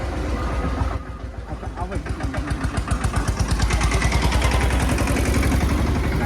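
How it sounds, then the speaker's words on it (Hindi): A small engine chugs with a steady rapid thump that quickens and grows louder as it revs, with voices faintly underneath. "छोटू ट्रैक्टर"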